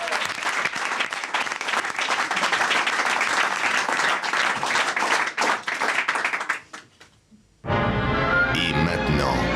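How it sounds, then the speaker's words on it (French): A studio audience applauds a contestant named Clément on a French comedy game show, dense sustained clapping that briefly fades to near silence, then another loud burst of applause resumes. "Et on t'applaudit encore, Clément"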